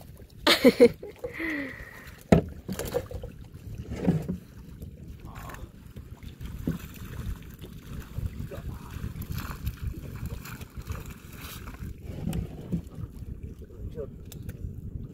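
Boat on the water at sea near a shark cage site, with wind buffeting the microphone, occasional knocks and splashes, and voices talking intermittently nearby.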